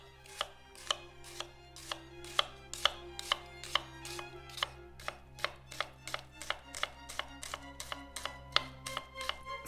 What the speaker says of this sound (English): So I want to chop it super finely.